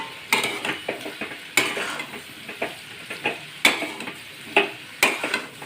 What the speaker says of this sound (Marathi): आणि आता आपण कुस्करून घेतलेले बटाटे घालून घेऊया।